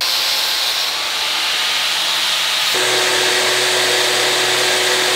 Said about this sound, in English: I'm gonna cut the pipe in half vertically